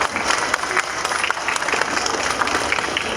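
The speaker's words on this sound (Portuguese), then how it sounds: "Recebam todos com muita alegria, com uma grande salva de palmas." A crowd at a panel stand during the UN climate conference gives dense, continuous applause to welcome women panelists, an even roar of many hands clapping at a steady level throughout.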